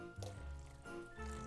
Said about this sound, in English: And now we will go ahead and we put the rum in